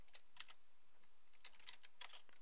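Quiet clusters of keystrokes on a computer keyboard, irregular bursts of light clicks with short pauses between, close and soft with no talking.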